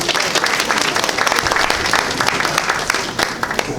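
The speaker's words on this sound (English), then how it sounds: "another round of applause for him." An audience at a school's 60th anniversary event claps in a round of applause, a dense, loud and steady patter of many hands that fills the whole moment without a break.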